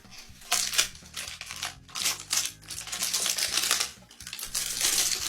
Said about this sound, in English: Once the bike's in the stand, I can start removing the packaging and frame protection.